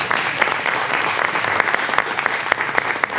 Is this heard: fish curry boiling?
no